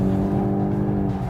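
A Volkswagen Golf GTI on a race track, its engine holding a steady, loud drone with a low rumble, heard from the cabin, no speech.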